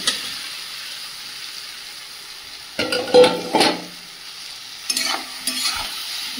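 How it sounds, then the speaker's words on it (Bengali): Fried potatoes and green jackfruit are tipped into sizzling spiced oil, with a quiet hiss at first, then bursts of loud sizzling and scraping stirs in the pan. "মশলা থেকে সুন্দর তেল ছেড়ে দিয়েছে, ভেজে রাখা আলু আর এঁচোড়টা দিয়ে দেব।"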